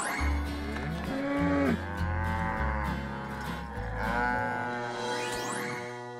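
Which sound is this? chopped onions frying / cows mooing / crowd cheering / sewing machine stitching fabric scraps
cows mooing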